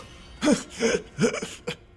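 A man coughs and clears his throat in a short run of four rough, throaty bursts, close and fairly loud, after being made to swallow a drink in a Mediterranean historical drama scene.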